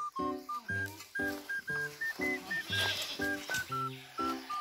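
A goat bleats in a rural outdoor setting, giving a run of short, rhythmic, nasal cries close by, about a dozen bursts in quick succession.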